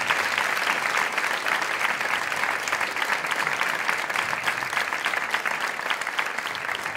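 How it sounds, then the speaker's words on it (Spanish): Steady audience applause at an awards gala as a presenter leaves the stage, a dense, even crackle of many hands clapping that holds at moderate loudness throughout. "Gracias a ti, Coro, fuerte el aplauso para Coro Fuentes."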